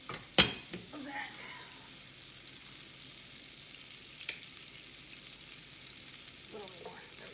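About a tablespoon and a half of butter melts in a pan for onions, giving a soft, steady low sizzle with a sharp clank near the start and occasional light scrapes as the pan is swirled.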